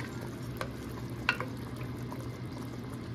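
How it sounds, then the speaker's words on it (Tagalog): A creamy beef and mushroom sauce bubbles uncovered in a pan with a steady, quiet sizzle, marked by a few light clicks of stirring. "Pakuluan pa natin siya ng mga another 3 minutes para lang medyo matuyo ng konti yung kanyang sauce"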